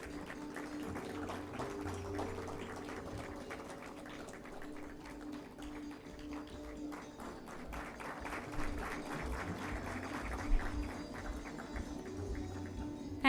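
An audience at an Engineer's Day gathering gives a round of applause, a continuous patter of many hands clapping at moderate distance over a low hum in the hall.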